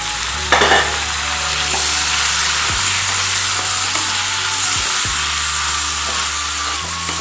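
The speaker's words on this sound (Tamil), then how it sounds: "இப்போ நம்ம அந்த தக்காளி சேர்த்து வதக்கலாங்க" Tomatoes sautéing with onions in hot oil for tomato chutney, a steady loud sizzle with a few utensil scrapes and a low tonal hum underneath, heard close with no talking.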